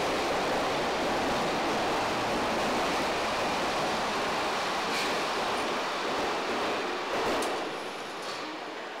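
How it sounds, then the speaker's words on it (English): A train approaches in an underground setting, a loud, broad roaring rumble that fills the space steadily, then eases off and thins out near the end. "There's another train coming."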